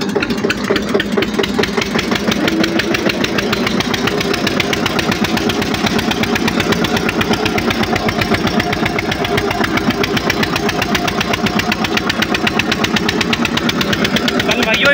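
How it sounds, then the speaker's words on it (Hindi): An Eicher tractor's diesel engine chugs steadily and loudly in a field while pulling in a low gear, a continuous rapid rhythmic thumping with no break, heard up close. "अब मैं ट्रैक्टर चलाता हूँ,"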